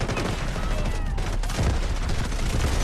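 SG552 rifle in the video game Delta Force fires rapid, continuous automatic bursts, loud and dense, with overlapping shots filling the whole moment.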